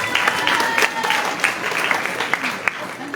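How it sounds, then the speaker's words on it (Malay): A school audience claps for administrators, a moderately dense burst of applause with some distinct individual claps standing out and faint voices mixed in beneath. "berikan tepukan kepada pihak pentadbir"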